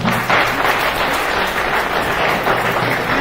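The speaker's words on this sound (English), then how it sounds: "keep clapping" A conference audience at a university event applauds after a speaker finishes, steady full clapping from many hands in a large room, continuing evenly without a break and without any voices.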